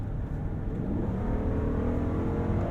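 A 2022 Jeep Grand Wagoneer full-size luxury SUV engine revs as a deep, steady, near rumble that rises slightly, with no voices.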